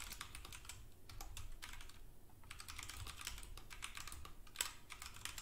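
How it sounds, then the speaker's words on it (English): Rapid typing on a computer keyboard during an online Among Us game session, a steady stream of quick clicky keystrokes with a brief pause, close and fairly quiet with no talking. "I didn't get to finish typing."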